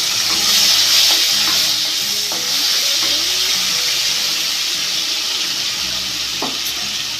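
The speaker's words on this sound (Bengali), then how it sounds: "এবার আমি টমেটোর কুচিটা দিয়ে দেবো এর মধ্যে" Chopped tomato sizzles and crackles in hot oil with whole cumin and dried chilli, a loud, steady frying hiss with occasional stirring clinks and pops throughout.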